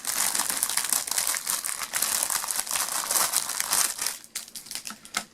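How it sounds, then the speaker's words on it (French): A Warhammer battlefield accessories package of scenery pieces being unwrapped, with loud, continuous close-up crinkling and crumpling of plastic and paper that thins out into a few separate rustles at the end. "c'est lui qui va déballer"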